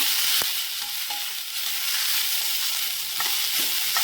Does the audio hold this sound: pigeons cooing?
no